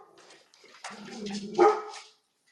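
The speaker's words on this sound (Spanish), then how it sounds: "te oímos a ti y a A tu Max perrito" A dog barks and whimpers in a few quick yips, nearby and moderately loud, with no talking.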